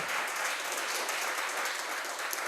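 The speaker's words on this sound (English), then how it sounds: "So, a big applause to the Corsan team, Alex, Jacob, Bora, and Robert." A seated audience at a coding bootcamp demo day in Milan applauds a presenting team, a steady, fairly soft patter of many hands clapping together with no pauses.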